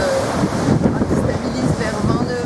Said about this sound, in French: On est monté jusqu'à 28 nœuds de vent.